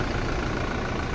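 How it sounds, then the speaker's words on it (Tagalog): Diesel engine of a 2018 Toyota Hilux G 4x2 automatic idling, a steady, loud, close low rumble with no change in pitch. "So makina sir, grabe kahinog."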